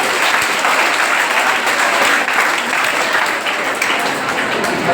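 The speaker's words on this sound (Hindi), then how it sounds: "अनुशासन हाउस के लिए फिर से एक बार जोरदार तालियां बजाएं" An audience at a school quiz final applauds a quiz team with sustained, dense clapping that holds steady and loud for the whole stretch.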